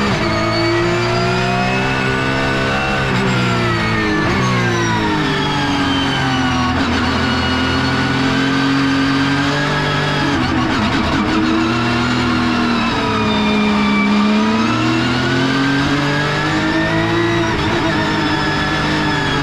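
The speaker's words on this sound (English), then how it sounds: "This is the safety car coming in into the pit lane." Porsche 911 Carrera Cup safety car at TT Assen entering the pit lane, a loud close engine holding a steady drone with rising and falling revs, alone without talk.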